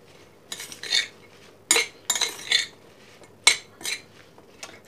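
A spoon clinks against a bowl while mixing a spring salad of young greens with vinaigrette, giving a series of bright, irregular metallic taps in small clusters, close and clear over quiet background.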